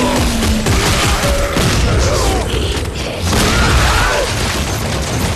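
Dense, continuous bursts of gunfire and heavy booms from the sci-fi survival horror game Dead Space 3, loud and relentless throughout, with mechanical clanks and impacts mixed into the chaotic combat.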